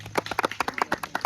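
Hands clapping in a quick, regular rhythm during a lively village Navratri garba, each sharp clap close and distinct across the short stretch with no voices over it.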